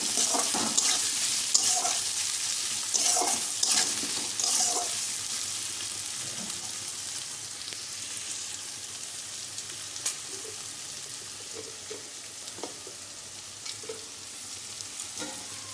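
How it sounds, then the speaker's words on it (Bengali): Onions sizzling and frying in a pan, a steady crackling hiss with bursts of stirring scrapes near the start, settling into a quieter, continuous sizzle. "পেঁয়াজটা ভাজা ভাজা হয়ে এসেছে,"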